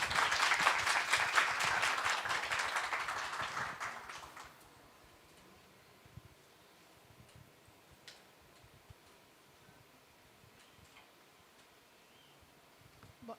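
Audience applause for a group of girls who spoke at an inclusion event, a dense burst of clapping for about four seconds that stops abruptly and leaves quiet room tone.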